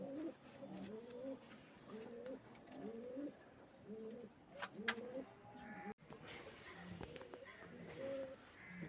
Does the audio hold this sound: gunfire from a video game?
no